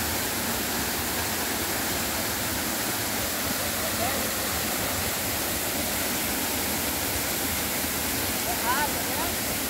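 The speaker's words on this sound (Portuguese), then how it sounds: "Malu animando a dar o último mergulho aqui na Cachoeira do Lobão" Steady broadband rush of water pouring down at the Cachoeira do Lobão waterfall, a constant close roar filling the whole clip with no pauses.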